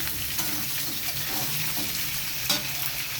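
Potatoes and ridge gourd fry in a pan after a black cumin seed tempering. A steady close sizzle carries on throughout, with scraping stirs and one sharper spatula knock near the end.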